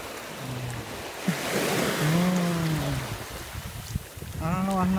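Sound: ocean waves

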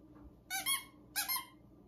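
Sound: squeaky dog toy squeaking

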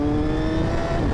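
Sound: Honda Fireblade motorcycle engine blipping

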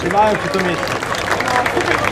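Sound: audience applause for a welcomed guest

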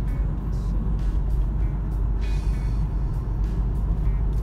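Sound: passing road vehicles on a street in the Philippines

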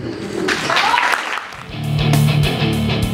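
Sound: audience applause at an awards ceremony

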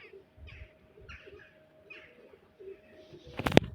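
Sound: birds

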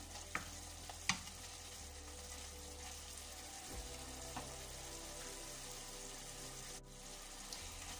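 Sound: stirring cabbage and beef mix frying in a pan

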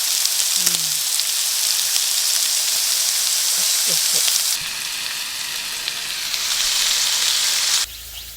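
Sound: pork belly sizzling as it grills

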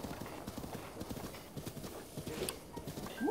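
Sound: horse hooves clip-clopping in Zelda Breath of the Wild video game

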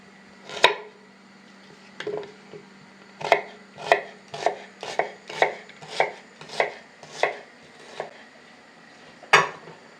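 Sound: knife slicing onion into half rings

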